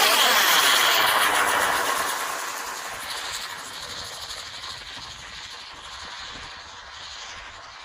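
Small Thai bung fai bamboo rocket ignited and launching at a village rocket event: a loud rushing hiss-roar that starts strong and gradually fades over several seconds, with crackling and no talk.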